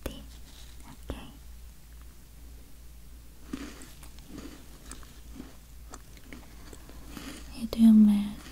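Soft bites and chewing of a sweet, melt-in-the-mouth flower-shaped sugar cookie in a quiet close-up setting, with faint crunches scattered over several seconds and a low murmur near the end.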